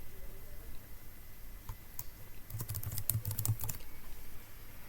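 Quiet keystrokes on a computer keyboard while working in an Excel spreadsheet: a few scattered taps, then a quick cluster of typing, close and soft with no talk.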